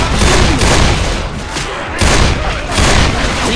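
Heavy gunfire in Left 4 Dead 2 pounds close and loud in near-continuous bursts, with short lulls between volleys and chaotic booms blended in.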